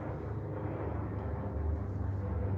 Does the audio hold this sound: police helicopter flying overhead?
yes